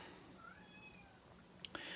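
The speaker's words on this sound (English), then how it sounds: "If you can hear him meowing, that's why." A house cat gives a drawn-out, wavering meow, faint and fairly close, followed by a couple of sharp little clicks in a quiet room.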